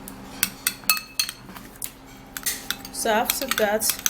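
Aloe vera and eyebrow serum ingredients being mixed in a small container, with a run of light clinks and taps from a utensil, ending in scraping stirs, while a voice speaks briefly.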